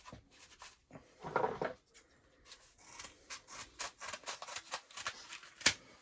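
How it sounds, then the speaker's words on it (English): Scissors snip through a folded sheet of Schluter Kerdi shower membrane during a tiled shower installation, giving a run of short crisp rasping cuts, close and fairly quiet, with no talking. "Simply take my scissors, cut it like that."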